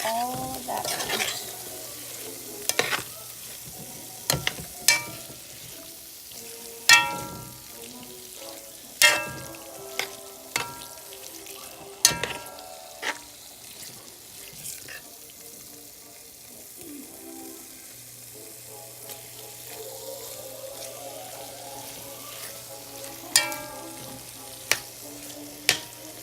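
Greasy food is stirred and mixed in a frying pan, with a steady low sizzle under it and repeated sharp scraping knocks from a utensil against the pan.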